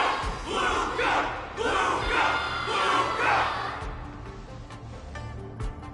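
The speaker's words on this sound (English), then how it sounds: "Can't you hear? Everyone's cheering for you, Luca!" A crowd cheering in the video game Honkai: Star Rail, a loud massed chant of voices rising in several rhythmic surges over a low drum-like backing, then fading into a quieter murmur with a few thumps.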